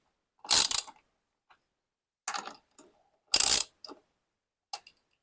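Two loud, close ratcheting bursts from tightening down a battery enclosure, each a quick mechanical clicking run, separated by softer scattered clicks and silence.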